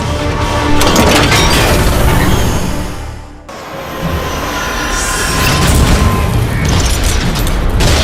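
Heavy rumbling explosion impact in a Transformers movie battle, a dense roaring blast that swells, dips briefly, then surges again with grinding metallic debris, loud and continuous throughout.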